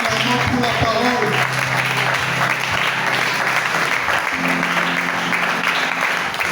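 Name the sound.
congregation applauding in church service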